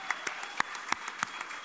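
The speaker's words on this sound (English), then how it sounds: "A big applause." Sparse applause at the Eurovision 2009 winner's press conference, a handful of separate claps spaced out, fairly quiet and brief.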